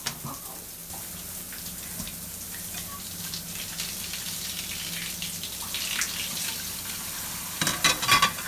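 Water runs steadily from a tap, a soft continuous splash with a few louder spatters near the end and no talking.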